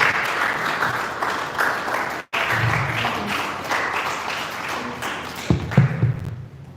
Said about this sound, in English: Keep clapping until